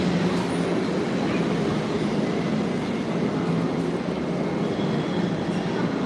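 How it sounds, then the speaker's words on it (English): A subway train bound for Doraville Station rumbles steadily at close range, a continuous loud roar of wheels and carriage noise without pause. "This train is bound for Doraville Station."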